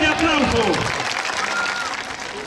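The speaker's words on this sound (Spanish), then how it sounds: "para los que pido un fuerte aplauso" Crowd applause at a charro rodeo, dense broadband clapping with a voice over a loudspeaker talking at the start, the applause holding steady then easing slightly.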